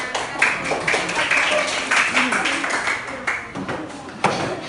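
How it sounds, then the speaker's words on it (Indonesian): Schoolchildren in a classroom clapping their hands together, a dense, lively patter of many small claps running throughout, fairly close and steady with brief swells. "Oke, tepuk tangan"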